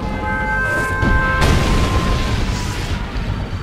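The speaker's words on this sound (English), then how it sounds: "Warning, nuclear missile launched." A nuclear missile explosion in the real-time strategy game Red Alert 2 delivers a loud, sustained rumbling blast with a sharp surge midway, then rolls on as a dense roar over a faint game tone.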